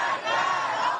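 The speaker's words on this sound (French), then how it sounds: "une foule compacte qui scande des slogans anti-Amérique et anti-Israël" A dense crowd in Iran chants political slogans in unison, heard as a brief, loud, blended roar of many voices.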